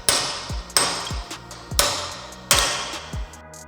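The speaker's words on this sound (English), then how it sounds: "Different noise from the hammer then, tells me that this is bottomed out." Hammer blows on bearings being seated onto an Iveco Eurocargo truck king pin, four sharp metallic strikes spaced about a second apart, close and loud, each ringing briefly before decaying, no talk.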